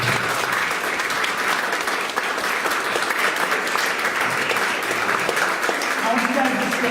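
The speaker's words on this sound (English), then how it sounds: "Can we give these people a round of applause?" A standing congregation applauds at a church service, a loud, continuous, dense roar of many hands clapping that holds steady from start to finish, with faint voices near the end.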